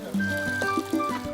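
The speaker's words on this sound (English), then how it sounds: "The coconut milk is poured into a clay pot and is lightly boiled on a fire." Coconut milk pours into a clay pot with a brief, close liquid gurgle and splash, over faint tonal background sound.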